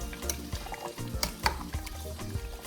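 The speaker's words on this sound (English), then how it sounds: "So I'm just tossing it a bit to make sure the yam is actually getting soft now." Yam pieces for Asaro yam porridge are tossed and stirred in a pot, giving close wet scraping and soft clattering strokes in an uneven rhythm over a low simmering bubble.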